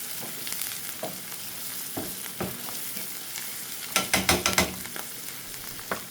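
Garlic fries steadily in hot oil as a constant sizzle, with a utensil stirring and scraping the pan, including a quick run of clattering scrapes partway through.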